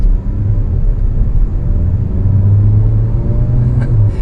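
A 2020 Mazda CX-30 with all-wheel drive is pushed hard from the driver's seat, its engine a steady, loud low rumble filling the cabin, with no talk over it.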